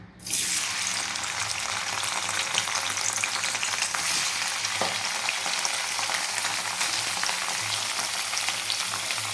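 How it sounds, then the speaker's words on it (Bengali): Cubes of paneer fry in hot oil in a pan for chilli paneer, a loud continuous close-up sizzle that starts abruptly and holds steady throughout, with faint stirring and no speech. "তো পনিরগুলোকে আমি একটু ভাজতে থাকি, একটু লাল লাল করে দিতে হবে"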